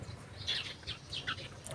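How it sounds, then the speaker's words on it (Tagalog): Birds call from a mango tree on a farm in a dry spell, giving a few quick faint chirps and tweets over a low background rumble. "daming ibon na dito sa may mangga. Rinig ko yung kanilang mga huni."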